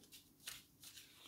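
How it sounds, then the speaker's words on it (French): A quick papery riffle of Lenormand cards being cut, soft and close, with no talking. "Voilà, je vais couper le jeu."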